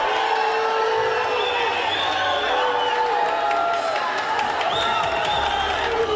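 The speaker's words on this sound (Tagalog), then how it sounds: "halos puro buna ang naririnig mo mula sa mga manonood" A boxing arena crowd greets a Filipino fighter with a steady, loud roar of jeers and shouts that swells in waves, voices overlapping in a dense wash with no pauses.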